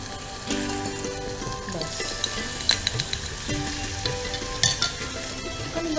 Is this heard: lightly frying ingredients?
yes